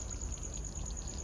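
Liquid poured into a pot of Punjabi chicken curry, a soft steady trickling pour that runs unbroken at low level with no voices.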